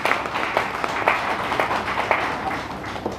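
Applause from a crowd at a political party gathering where Congress workers join the BJP: dense, steady clapping fills the hall for a few seconds at a fairly loud level, with no one speaking over it.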